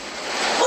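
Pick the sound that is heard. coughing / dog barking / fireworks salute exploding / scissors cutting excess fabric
dog barking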